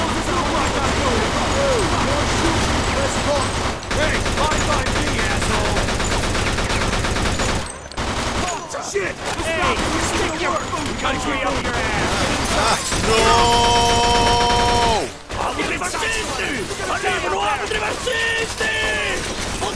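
Bursts of MG-42 machine gun fire in a Mafia 2 shootout, loud and sustained with brief gaps and sharp breaks, mixed with mechanical clatter and other game sounds.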